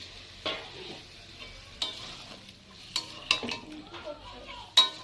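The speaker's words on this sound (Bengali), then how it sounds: "এবার আমি মাটনে একটু জল দিয়ে কষিয়ে নেব।" Mutton being stirred and braised in a pot with spice-paste water, with scraping spoon strokes and a soft sizzle; several sharper clinks of utensil against the pan stand out over a low simmer.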